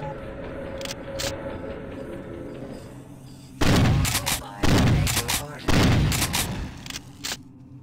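Frag grenade exploding in the game System Shock 2, a loud burst of blasts and crackling gunfire-like bangs in the second half, following quieter rumbling game noise.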